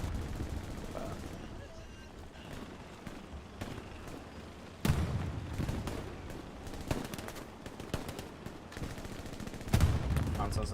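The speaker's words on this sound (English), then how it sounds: "I am being shot at." Gunfire from the video game Hell Let Loose, dense bursts of shots and heavy impacts repeating throughout, with loud sharp volleys near the middle and end over a constant battle din.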